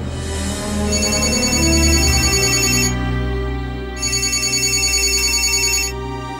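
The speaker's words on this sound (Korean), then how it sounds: "이 형사님의 전화가 또 울립니다." An electronic phone ringtone plays in two loud bursts with a short pause between, a melodic trill over a sustained tone.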